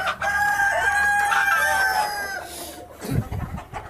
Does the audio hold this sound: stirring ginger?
no